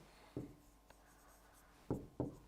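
Marker strokes on a board during an Arabic grammar lesson: a few short scratchy squeaks, one early and two close together near the end, faint and close against a quiet room hum, with no speech.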